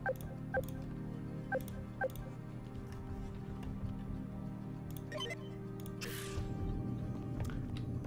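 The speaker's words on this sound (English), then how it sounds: "I'm hearing people walking." Footsteps of people walking in the video game Deus Ex: Invisible War, a series of light, evenly spaced taps over a steady humming ambient drone, with a few fainter scuffs later on and no talking.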